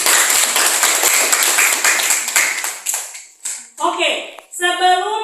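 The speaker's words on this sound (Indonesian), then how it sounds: "Kita tepuk tangan dulu" A class of students claps together for a few seconds, a dense patter of hands that thins out and stops, followed by a teacher's voice speaking clearly and close.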